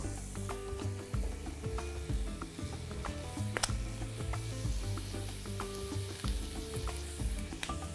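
Onions frying in a pan with sugar and hot red pepper while a beef and eggplant stew is being made, giving a steady close sizzle broken by occasional stirring scrapes and clicks, with no one talking.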